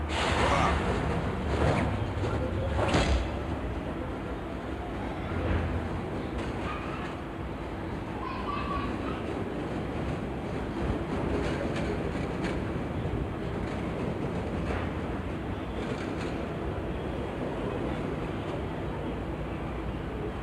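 A train in the video game Batman: The Telltale Series rumbles along steadily, with a continuous loud rolling roar and occasional clanks and clicks from the rails.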